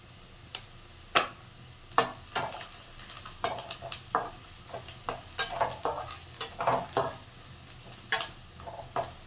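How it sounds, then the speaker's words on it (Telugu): Onion frying lightly in a pan with dried red chillies for a Telugu curry: a faint low sizzle beneath repeated sharp scrapes and taps of a spoon stirring against the pan, fairly close. "ఇది లైట్గా వేయించుకుందాము ఆనియన్"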